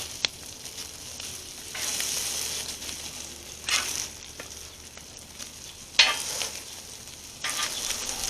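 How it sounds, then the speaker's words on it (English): Crab cakes sizzle steadily in a hot pan, the crackling swelling in several louder bursts with a few sharp clicks, close by and without voices. "And you hear that sizzle too."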